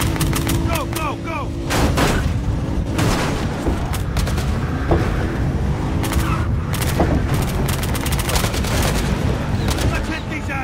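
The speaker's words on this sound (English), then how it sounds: "everyone's shooting at everyone at this point" Gunfire in the video game Battlefield Hardline comes as dense rapid bursts and booming shots, loud and continuous throughout, with a shouting voice in the mix.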